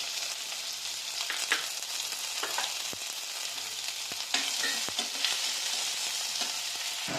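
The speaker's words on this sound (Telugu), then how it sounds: "నూనె పోసి దాంట్లో ఆవాలు వేయాలన్నమాట ఆవాలు వేసి కొద్దిగా జీలకర్ర" Mustard seeds and cumin fry in hot oil in a kadai, a continuous close sizzle with sharp popping crackles and a few stirring knocks, no voices.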